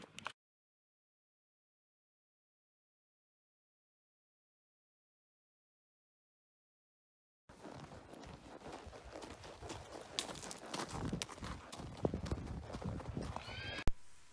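Horses on a farm being brought in, with steady clip-clop hoofbeats on hard ground and a clear whinny near the end, close and moderately loud after a long silent stretch.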